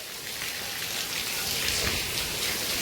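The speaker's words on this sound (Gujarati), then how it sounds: "વરસાદ તો સારો શરૂ થઈ ગયો છે" Steady rain falls outdoors, a continuous close hiss of drops on surfaces with no other sounds.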